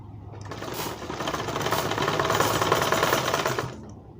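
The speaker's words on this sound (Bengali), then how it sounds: "তো এভাবে ডাবল সেলাই করে দেবে হাতাটাকে" A sewing machine runs fast, double-stitching the sleeve of a blouse. It gives a dense, even, rattling hum that holds for several seconds, then eases off near the end.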